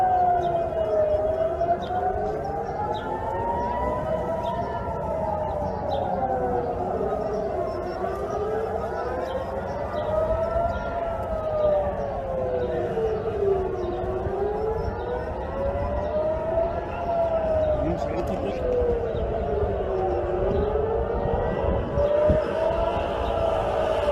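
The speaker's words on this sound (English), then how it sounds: "This was an air raid siren that went off from Jerusalem." An air raid siren in Jerusalem wails in slow, rising and falling cycles, loud and continuous, with a faint murmur of people underneath.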